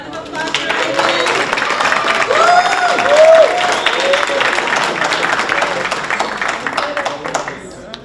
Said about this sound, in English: One more round of applause for Ivan.